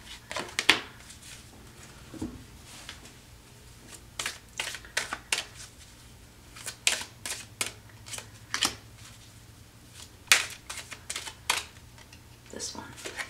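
Tarot cards are shuffled and riffled at close range in a run of short, crisp, papery flicks and snaps spread irregularly over a quiet room, with light speech in between.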